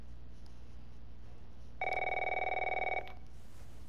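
A telephone bell rings once in The Last of Us video game, a steady trilling ring lasting about a second over quiet low room tone, with no talk.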